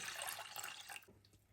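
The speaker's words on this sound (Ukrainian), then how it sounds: "Добавляємо сюди 250 грам води." Water poured into a pot while making dough for homemade belyashi, a steady splashing stream for about a second that then thins to a few faint drips.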